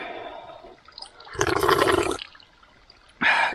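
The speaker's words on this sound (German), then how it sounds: "Erstmal hier hinten pinkeln." A man urinates outdoors in the wild, a brief splashing stream onto the forest floor or bark that runs for under a second, followed by a short rush of trickling water.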